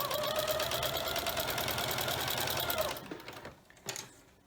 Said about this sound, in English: I'm just going to sew straight here.